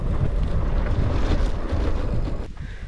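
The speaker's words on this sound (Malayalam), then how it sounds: "നല്ല കാറ്റുണ്ട്" Wind gusting across a sunny hillside viewpoint, a steady, loud rushing roar that buffets the microphone throughout before easing slightly near the end.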